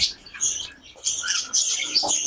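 Doves known as raj ghughu, a foreign breed kept on a bird farm, give close chirping calls in repeated bursts that fill nearly the whole stretch with no talk.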